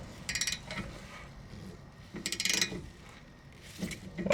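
Ratchet clicking in short bursts while a brake line bolt sandwiched between two copper washers is threaded in on a Lexus SC300 big brake kit install, three brief rattling runs separated by quieter pauses.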